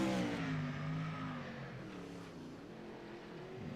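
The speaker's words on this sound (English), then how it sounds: "Noah Bowman, the first to roll out" A wingless sprint car at Kokomo rolls out for qualifying, its engine rumbling and revving at a moderate distance with a falling then rising pitch, heard alone.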